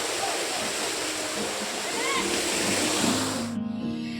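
A waterfall rushes and splashes close by as a dense, continuous roar of falling water in lush countryside, cutting off abruptly near the end as a voice briefly comes in.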